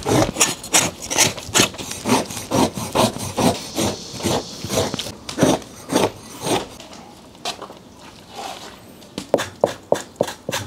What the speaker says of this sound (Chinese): 牛皮上的毛整体的已经刮得差不多了